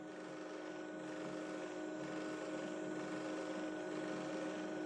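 A faint, continuous mechanical whirring hum from an old printer warming up, steady and even throughout with no voices.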